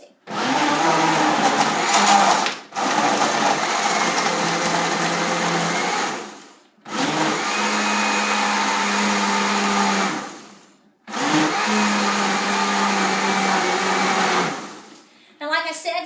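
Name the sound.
old blender blending a coconut oil smoothie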